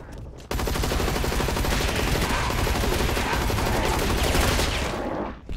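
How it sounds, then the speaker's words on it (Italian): Sustained automatic gunfire in the video game Hazard Ops, a loud, dense burst of rapid shots lasting about five seconds with no pause. "Qua sparo a caso, qualcosa colpisco"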